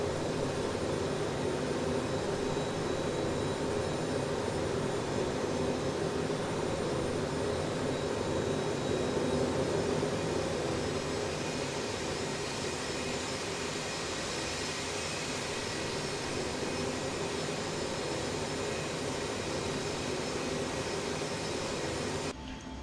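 Steady broadband roar of an ERJ-145 regional jet's engines heard from inside the cabin in flight, a constant loud wash with a faint tonal hum, unbroken throughout.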